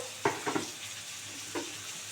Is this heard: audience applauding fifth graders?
no